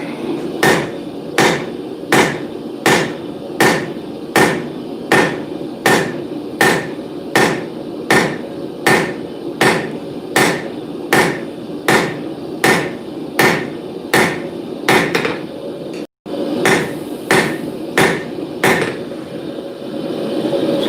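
A blacksmith hammers a hot bar on an anvil to draw it out, striking in a steady, evenly spaced rhythm of loud ringing blows with one brief pause near the end.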